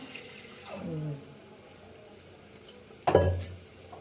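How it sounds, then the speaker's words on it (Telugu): Water is poured into washed rice for a pressure cooker in a home kitchen: a brief splashing gush near the end, after a quieter stretch with a faint earlier rush. "ఇక్కడ దాకా వచ్చేదాకా నీళ్ళు పెట్టాలంటారు అన్నంలో."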